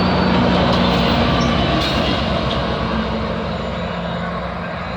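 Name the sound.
GO train passing on CN Oakville Subdivision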